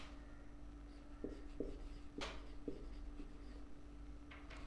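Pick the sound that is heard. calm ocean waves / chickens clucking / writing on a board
writing on a board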